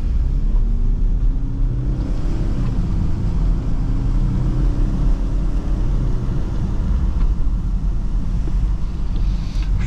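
A BMW 116d diesel hatchback accelerates along a winding mountain road, and its steady low engine drone is heard from inside with outside noise let in. Heavy wind rush runs constantly through the whole stretch.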